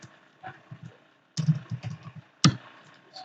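Keys on a computer keyboard are typed while writing HTML navbar code, a few soft taps followed by two bursts of quick clicking, close and clear with no talk.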